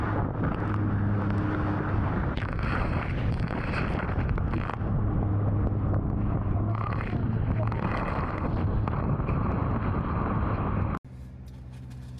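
Strong, steady bora wind roars and buffets the microphone for about eleven seconds, with low rumbling gusts throughout, before cutting abruptly to a quieter background.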